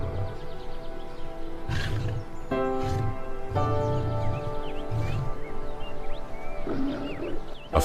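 A lion roars in the wild, heavy and close, in a rhythmic series of deep grunting bursts that swell and fade over several seconds, with faint bird calls in the background.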